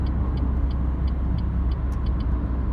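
A Renault Clio 1.5 station wagon accelerates at full throttle, its engine a steady loud low drone heard from inside the car, with faint high ticking sounds above it.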